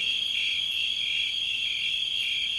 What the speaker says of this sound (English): The resounding cries of cicadas provide tropical forests an incredible dimension of depth and mystery.